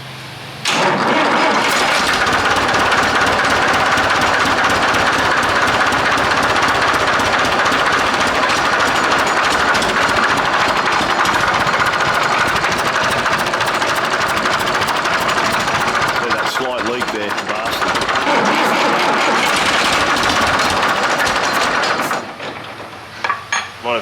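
Diesel engine of a Chamberlain tractor crane cranking over and catching after three weeks idle, then running in a loud, rough, steady clatter before cutting off near the end.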